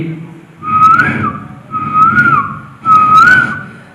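A human voice imitates a cuckoo in a State Kalolsavam mimicry performance, whistling three rising and falling calls in a steady rhythm, close and fairly loud, with a hum underneath.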